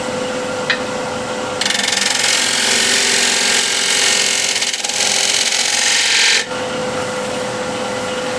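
A wood lathe spins at 1300 RPM while a tool hollows a big wooden bowl, giving a loud, steady rasping cut over the motor's hum that runs for several seconds and then drops back to the motor alone.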